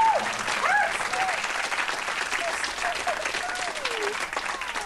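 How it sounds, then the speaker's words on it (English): Studio audience applause fills a television talk show, a steady dense wash of clapping heard close and loud throughout, with voices faintly mixed in underneath. "Round of applause!"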